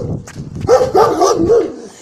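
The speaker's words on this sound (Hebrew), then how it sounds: "או, אחלה כלב, תראו." A dog at a house barks and yips several times close by, short whining, high-pitched calls in a quick uneven run, with a voice briefly at the start.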